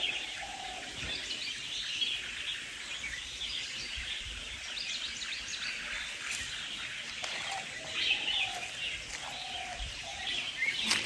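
Birds call and chirp continuously around a temple site near Anakapalli, a dense chorus of faint twittering over steady ambient hiss with a few sharper nearer notes.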